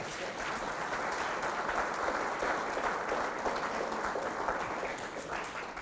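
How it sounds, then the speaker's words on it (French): Sustained applause from a conference audience at an evening lecture in France, a dense, steady wash of many hands clapping, fairly close and even in level for the whole stretch, with no talk over it. "On peut l'applaudir."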